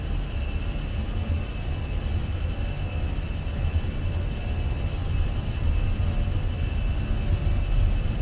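Fenix A320 jet engines spooling at takeoff thrust in a flight simulator, a steady broadband roar with a faint high whine, building slightly louder over several seconds.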